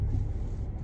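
A car engine rumbles low and steady up close while the car reverses into a parking spot, a brief, continuous drone with no talking.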